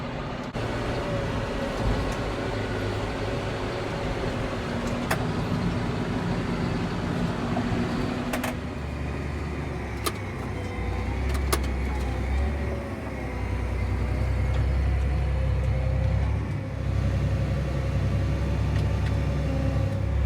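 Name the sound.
tractor hauling a grain wagon of harvested corn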